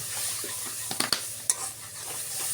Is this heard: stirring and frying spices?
yes